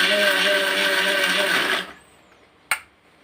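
A mixer grinder whirring loudly as it grinds green tomato chutney, a steady motor drone that cuts off after almost two seconds, followed by quiet and a single sharp click.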